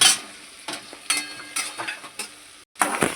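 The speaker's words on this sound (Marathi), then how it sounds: "हा मिरचीचा ठेचा. याला छान ब्राऊन होईपर्यंत फ्राय करायचं" Crushed green chili paste (thecha) fries in a hot pan, crackling and sizzling in short bursts as it is stirred, with scrapes and taps between, close and fairly loud.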